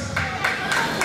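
Crowd at a Plaza Vea La Molina supermarket anniversary event in 2019 claps in quick bursts of overlapping handclaps, close and lively, with no talk over it.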